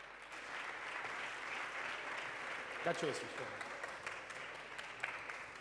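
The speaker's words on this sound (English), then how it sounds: "Please, guys, applause." Audience applause for conference panelists at a startup summit, a steady, dense roar of clapping from a large crowd with a brief voice cutting through midway.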